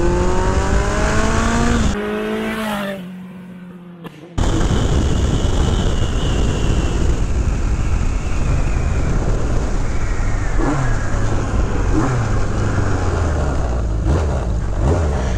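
A 1982 Kawasaki GPZ1100 motorcycle ridden at speed, picked up by a microphone inside the helmet, giving a steady broadband wind-and-engine roar with a brief muffled dip before the drone returns and runs on loudly to the end.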